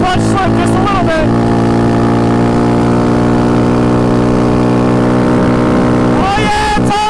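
Raptor 700 ATV engine with a blown head gasket and a slipping clutch, revving loudly under throttle with strong steady harmonics, rising pitch at the start and end, and voices shouting over it.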